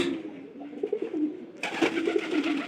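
A pigeon recovering from a cold coos repeatedly at close range, with soft rising and falling calls. A broad burst of hiss and clatter joins halfway through and continues under the cooing.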